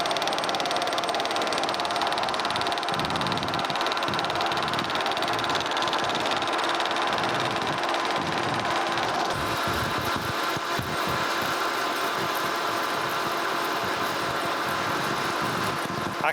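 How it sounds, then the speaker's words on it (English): A metal lathe drones steadily as a parting tool slowly feeds into steel to cut a bolt blank for a T-nut, a continuous loud machine hum with a faint shift partway through and no talk. "I'm just kind of lining my parting tool up on. And we'll just slowly feed in there."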